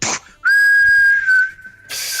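A voice mimics an artillery shell's whistle with one long, loud, steady whistled tone that holds for about a second and a half. Short hissy breaths come just before and after it.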